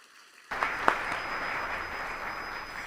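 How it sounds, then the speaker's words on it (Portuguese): Applause from a church congregation for José David, starting abruptly after a short silence and holding as a steady wash of clapping, with a couple of sharper claps near the start. "um forte aplauso"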